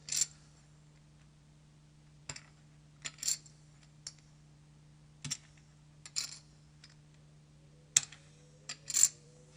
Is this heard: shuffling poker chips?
yes